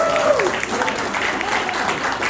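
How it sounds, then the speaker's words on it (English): Brief burst of dense crowd applause at a community Pride breakfast, honouring a congressman, with a voice briefly rising over the clapping at the start. "So one more applause for Congressman Adriano Espaillat"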